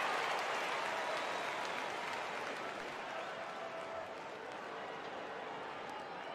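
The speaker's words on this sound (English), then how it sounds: "Something that's really making this game special is this crowd." Video game crowd noise from NBA 2K23 during a Team USA basketball game, a broad steady roar of a huge stadium audience with applause, sustained throughout under faint commentary.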